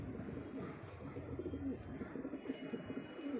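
Kaldume pigeons, a large Sambhal-type hen among them, coo in low, soft repeated murmurs that run steadily through the clip at close range.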